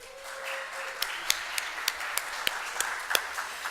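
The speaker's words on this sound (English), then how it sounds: "Let's have another round of applause." At a startup pitch day, a small audience gives a sparse round of applause, distinct individual claps ringing out at a steady rhythm over faint room noise.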